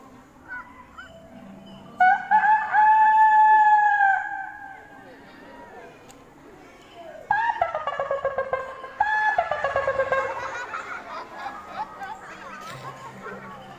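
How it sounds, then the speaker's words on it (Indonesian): Two rooster crows ring out fairly close, with harmonic calls rising and holding, separated by a pause, over light background chatter. "Ada suara kokok ayam"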